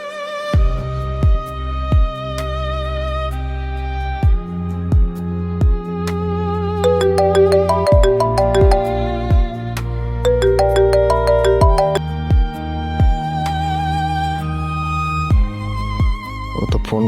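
A phone ringtone melody plays loud and close, repeating its tonal phrase over and over with no pickup and no voices.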